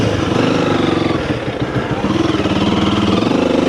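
A Honda CRF300L fitted with a stage 1 kit runs off road in second gear, its engine loud and close, pulsing and revving in quick surges with a brief dip partway through.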